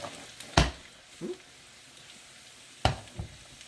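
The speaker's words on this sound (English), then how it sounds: "We're just going to saute these till they're nice and golden brown." Garlic sautéing in hot oil in a pan for fried rice, a quiet sizzle broken by a few sharp stirring knocks and scrapes spaced apart.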